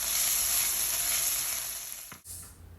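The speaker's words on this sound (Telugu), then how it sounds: "ఆనియన్స్ ఇలా ఫ్రై అయ్యాక ఈ రొయ్య పొట్టు దీనిలో వేసి 1 నిమిషం ఫ్రై చేసుకుందాం" Prawn shells are frying with onions in a pan, giving a loud, close, steady sizzle. It cuts off abruptly, and a quieter hiss follows.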